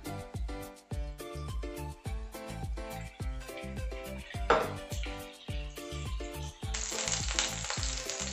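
Onion cooking in a pan with steady frying sizzle, low rhythmic knocks and tonal clatter running throughout, a brief louder hiss midway and a bright, denser sizzle toward the end.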